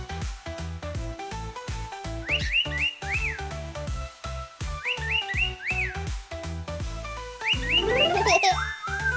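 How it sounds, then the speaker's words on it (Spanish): A parrot gives repeated bright, rising whistles in short bursts over steady rhythmic background music, with a louder run of sliding whistles near the end. "Este es un loro."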